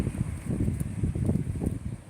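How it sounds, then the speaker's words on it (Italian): Strong wind blows ahead of a storm, gusting and buffeting against the microphone in low, rumbling surges, loud and close, with no voices. "Proprio il vento che fa paura."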